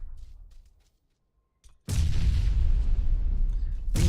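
A grenade blast in a PUBG squads match on the Miramar map: after a short quiet, a sudden loud boom erupts and rolls on as a dense rumbling roar for about two seconds, then a second burst hits at the end.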